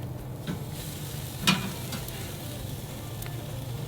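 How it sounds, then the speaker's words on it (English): A pork porterhouse steak sizzles softly on a grill as its fat chars, giving a low, steady crackle with a single brief louder pop partway through. "And that fat's starting to char up."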